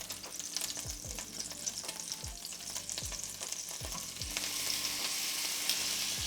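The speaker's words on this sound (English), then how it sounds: "listen to that sizzle" Meat sizzles loudly in a hot pan, a steady crackling hiss broken by regular soft knocks and scrapes of stirring, growing slightly brighter toward the end, with no talk.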